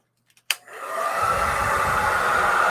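A hair dryer aimed at an ink painting in an art studio switches on after a few small clicks and settles into a loud, steady close whooshing roar that continues to the end, with no talking.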